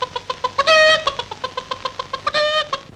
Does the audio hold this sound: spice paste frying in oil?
no